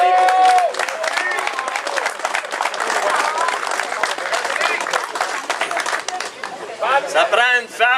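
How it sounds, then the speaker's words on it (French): A crowd applauds a helper at a bass fishing tournament on the Lièvre River, a dense burst of clapping and cheers running for several seconds while an announcer speaks over it through a loudspeaker. "Mylène Saint-Germain, je veux qu'on l'applaudisse."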